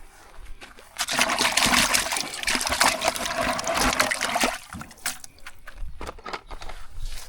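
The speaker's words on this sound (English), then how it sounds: "I'm now going to go and wash my hand off" Running water washing cement off hands, a close, steady splashing and trickling flow that continues for several seconds before breaking into irregular splashes.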